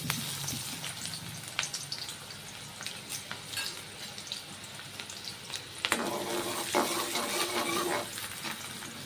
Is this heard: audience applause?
no